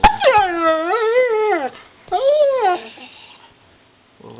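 Laika the dog lets out a drawn, wavering howl that bends up and down like speech, then a shorter whimpering howl after a brief pause, close and loud, with a faint sound at the very end.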